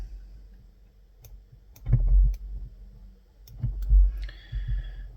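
Scissors snip fly-tying material while a fiery brown muddler fly is trimmed, giving a few quiet, irregular close clicks and cuts with soft handling noise between them.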